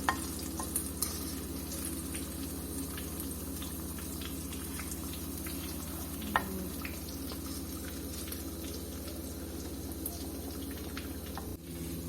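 Vegetable pakoras sizzle in hot oil with a constant dense crackle, broken by occasional clinks and scraping stirs, close up and with no talking.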